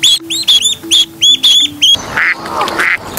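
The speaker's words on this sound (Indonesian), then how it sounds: "Duck." A duck quacks in a quick run of sharp, evenly spaced calls, close and loud, followed by a brief rustle and softer squawks over light background music.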